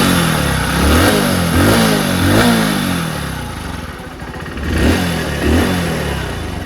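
A Hero HF Deluxe motorcycle engine, just repaired with a new clutch plate and tappet adjustment, revs loudly and close by in repeated throttle blips that rise and fall over steady running, with no talking.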